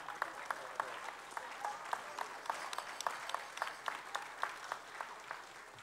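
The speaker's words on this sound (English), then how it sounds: "Please, please thank them now with your applause." Scattered audience applause at a gala as doctors' partners stand to be thanked, moderately distant with sparse individual claps and soft room noise, no clear talk over it.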